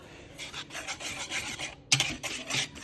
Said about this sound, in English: I'm just whisking together the dry ingredients right now, the flour, cornstarch, and salt